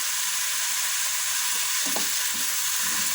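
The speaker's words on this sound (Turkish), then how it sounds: "Bunların hepsini bir biraz soteleyeceğim yağımla." Leeks and carrots sauté in oil in a pan for a Turkish carrot and leek dish, giving a steady broadband sizzle with a few stirring scrapes near the end and no talk.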